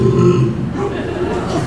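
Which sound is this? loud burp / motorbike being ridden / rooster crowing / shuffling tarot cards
loud burp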